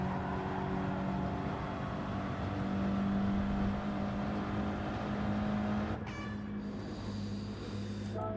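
A race car in Gran Turismo 7 drones steadily as it drives into the pits, its engine a sustained, fairly quiet hum that shifts and drops in tone near the end.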